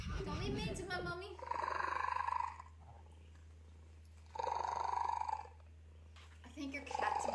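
A cat lets out strange, rough, drawn-out purring growls in long bursts, separated by quiet pauses, with a low steady hum underneath and brief talking at the start.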